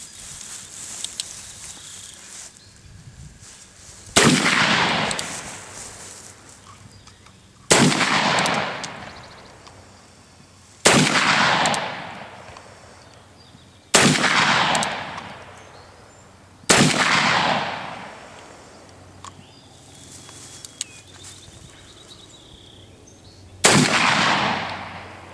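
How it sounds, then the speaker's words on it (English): Seven loud booming shots from a Remington Model 1858 .44 black powder revolver, fired one at a time a few seconds apart, each a sharp crack followed by a long decaying rumble. "I got my model 1858 Remington. So we'll give that a few shots and see how it does."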